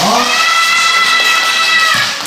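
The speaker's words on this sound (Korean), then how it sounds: "마지막으로 하나 지금 박수 한번 받게 부탁드릴게요" Cheering from a crowd of elementary schoolchildren at a science event with a sand art show in Wando, South Korea: loud, continuous shouting and high voices merging into one sustained burst that fades slightly at the end.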